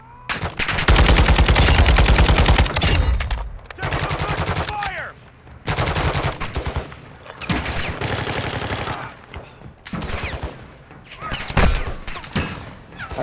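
Rapid automatic gunfire fills a video game shootout in sustained loud bursts with brief pauses, close and dense, with a player's voice occasionally over it.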